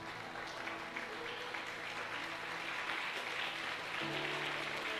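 Steady applause from a church congregation indoors during a service, continuous for several seconds, with low sustained tones of music or hum underneath.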